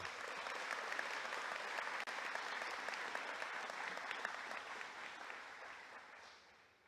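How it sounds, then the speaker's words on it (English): Audience applause at a 2023 California Aeronautical University graduation ceremony: steady, dense clapping from a large crowd sustained throughout, fading slightly at the end. "let's give an applause to Alan"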